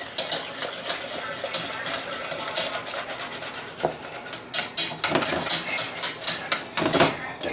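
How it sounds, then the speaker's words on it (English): Pastry cream thickening in a pot is stirred steadily, giving a continuous scraping, rasping sound of a utensil dragged against the metal, with repeated sharp clinks and brief louder scrapes close by. "I'm going to constantly stir this until it thickens"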